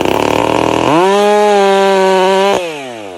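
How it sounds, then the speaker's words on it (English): Loud, close Stihl MS-462CM chainsaw in a forest, a steady high-revving engine whine that rises in pitch and then holds under load, dropping off sharply near the end. "a lumberjack expertly wields the MS-462CM chainsaw"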